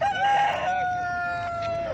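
A rooster crows loudly and close at a chicken market in Sungurlu, its call drawn out and falling, with other fowl clucking in the background.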